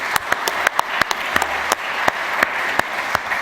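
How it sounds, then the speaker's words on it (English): A conference audience applauding the speakers after a poster preview session, with dense, steady clapping filling the room throughout. "I think we should really give all the speakers a round of applause"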